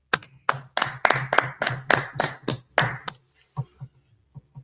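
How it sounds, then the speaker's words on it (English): A small law class claps along in a group at a school on 125th Street in Harlem, giving about eight sharp, fairly synchronized claps in a steady rhythm, then a few scattered softer claps as it trails off. "Let's clap it up."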